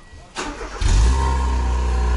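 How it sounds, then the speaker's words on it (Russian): Close up, a Kia car's engine cranks briefly and fires after a muffler replacement, then settles into a steady, deep idle rumble. "Давай, первый пуск, пробуем, как это, орет, не орет машина."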